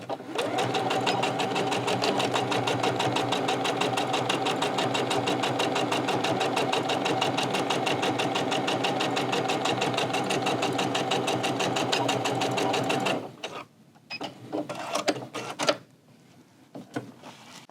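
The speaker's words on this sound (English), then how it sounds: "this machine has great puncture power. It can go through a lot of layers." A Husqvarna Viking Onyx 30 sewing machine stitches steadily through many layers of fabric, a fast, even mechanical whir running loud and unbroken for about thirteen seconds before stopping, followed by a few scattered clicks and handling noises.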